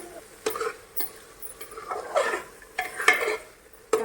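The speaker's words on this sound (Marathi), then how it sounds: "आपण आता ह्याच्यामध्ये मिक्स करून घेणार आहे मस्त असं भाजून घेणार आहे" A spoon scrapes and stirs onion-tomato masala with homemade chili powder in a pan, giving several sharp, close clanks and scrapes spaced irregularly, with no voice.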